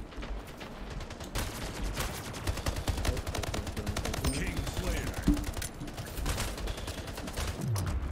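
Rapid automatic gunfire and scattered shots from a shooter video game rattle steadily at moderate volume, with faint talking mixed underneath.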